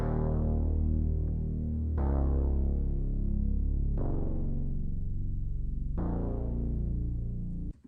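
Deep analog synth bass notes from an Arturia-style analog synth, thick and droning, shifting pitch every two seconds in a slow repeating pattern, with no talking.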